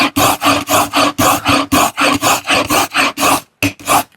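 Spokeshave shaving a wooden edge in about a dozen quick, even rasping strokes, close and loud, with a short gap before the last two passes.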